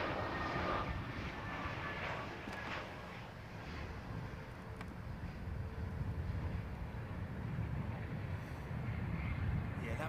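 A piston-engined aircraft arrives on runway 09L at London Heathrow, its engines producing a steady, distant droning roar that holds at low level throughout.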